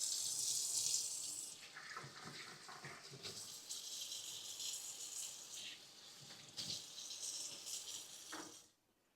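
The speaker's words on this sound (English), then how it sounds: "I am going to run it across some water" Tap water runs steadily into a sink over a peeled hard-boiled egg, a soft continuous splash that shifts as the egg is turned, then stops abruptly at the end.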